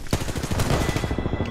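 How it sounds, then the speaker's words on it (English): Rapid automatic gunfire in the shooter Apex Legends, a loud, close burst of evenly spaced shots rattling steadily for the whole moment. "I'm getting shot at."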